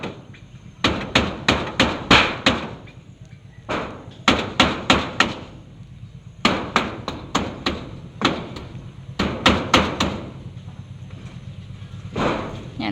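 A hammer drives nails into a shop's shutter in repeated bursts of sharp, loud strikes, several blows per group with short pauses between groups, close by.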